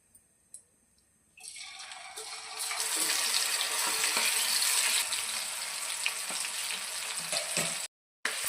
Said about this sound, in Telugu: ఆయిల్ వేడయింది, అందులో ఈ స్వీట్ కార్న్ వేసుకుంటున్నా.